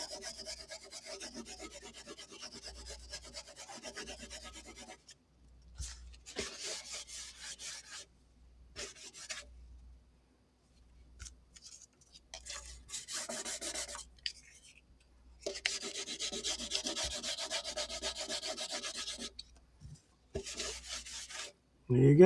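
A ukulele body is lightly sanded with 3000 grit sandpaper, making soft close rubbing strokes in bursts of several seconds separated by short pauses, quiet and alone.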